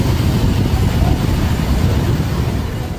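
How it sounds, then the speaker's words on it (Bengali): The Dhauli Express rolls into Santragachi Junction with a loud, continuous low rumble and wheel noise that fades slightly toward the end, heard from on board. "তো আমাদের ট্রেন এখন অ্যারাইভেল দিচ্ছে সাঁতরাগাছি জংশনে"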